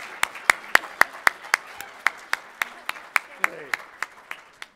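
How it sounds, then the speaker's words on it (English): Brief applause at a keynote speech, mostly one or two people clapping in an even, steady rhythm of sharp, close claps, with faint talk in the background. "Let's give her an applause, please."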